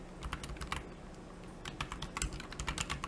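Close, quiet computer keyboard typing comes in two bursts of quick keystrokes with a short pause between them.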